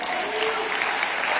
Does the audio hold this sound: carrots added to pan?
no